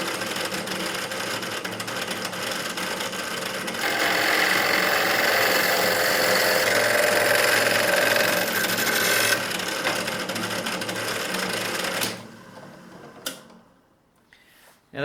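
A grinding stone runs along V-rails on a CNC grinder, making a loud, continuous whirring rasp that swells midway, holds steady, then winds down into quiet with a couple of faint knocks.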